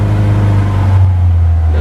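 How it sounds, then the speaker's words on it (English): A VAZ 2101 Lada idles steadily while warming up just after starting, its low engine hum strong and continuous, with a slight shift in tone partway through. "now that the car is started, we're letting it warm up"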